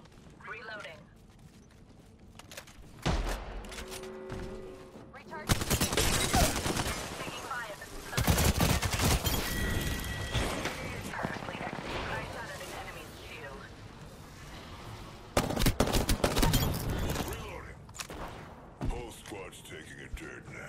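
Gunfire in Apex Legends comes in repeated heavy bursts and sustained automatic volleys that swell and fade, loud and close, with players talking over the shooting.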